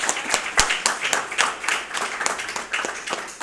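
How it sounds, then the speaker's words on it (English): Live audience at an AI startup event claps for a speaker, a dense patter of hand claps with a few sharp louder slaps standing out, fairly close and steady for the whole stretch, no talk over it. "let's have a round of applause"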